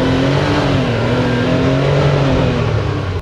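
A CFMoto enclosed-cab UTV engine pulls hard under acceleration, a steady loud mid-pitched drone with rising and falling engine tones heard from inside, continuous with no talk.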